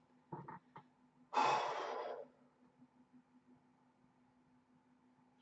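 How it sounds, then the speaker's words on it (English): A person takes a short breath, then lets out one long, deep, breathy exhale close to the microphone, followed by quiet. "And let's just take an exhale out right now."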